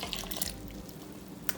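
Warm milk at about 123 degrees is poured into a mixing bowl for a homemade copycat Cinnabon dough, a faint, close, brief liquid trickle and splash with no talking.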